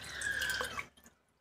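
Cold water poured from a container, a short bright gurgling splash that fades to a few faint drips within about a second.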